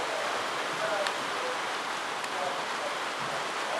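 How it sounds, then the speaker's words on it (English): Steady rain on a rainy day at a zoo, a dense even hiss of falling drops throughout, moderately close, with faint voices at moments. "I don't know if you can hear that, but that's rain."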